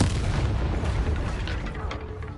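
A Bombarda blasting spell explodes in the Hogwarts Legacy video game, a loud, deep boom that rumbles and slowly fades over about two seconds.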